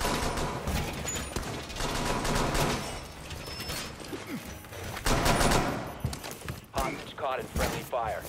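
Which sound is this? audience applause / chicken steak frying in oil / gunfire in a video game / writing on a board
gunfire in a video game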